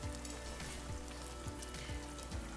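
Chicken humba with peppercorns and bay leaves simmering in a pot, a steady close bubbling and crackling sizzle with soft periodic pops, continuous and even throughout with no talking.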